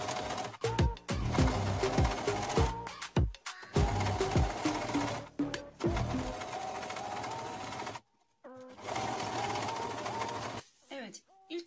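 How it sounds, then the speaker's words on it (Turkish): A domestic sewing machine stitches bias binding along a pressed fold line in close, loud bursts of rapid needle clatter, separated by short pauses and a longer silence. "tam ütü çizgisinden biyeme dikiş atacağım"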